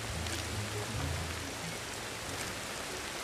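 Rain falls outside in Ancestors: The Humankind Odyssey, a steady, close, hissing patter with some low rumbling beneath it.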